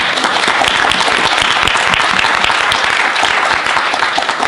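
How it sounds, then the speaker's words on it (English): A hall audience applauds a leader being honoured, with dense, loud, sustained clapping that holds steady for the full few seconds, alone without talk. "So I would ask you to join me in applauding our friend"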